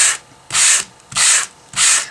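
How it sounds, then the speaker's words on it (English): Four rhythmic, close-up scraping strokes of sandpaper rubbing back and forth across thin card, each a hissy burst separated by brief pauses. "We're just going to continue sanding the front of this cardstock."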